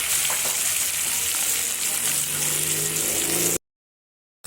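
Duck eggs sizzle and crackle steadily in hot oil, a loud continuous frying hiss that cuts off abruptly near the end.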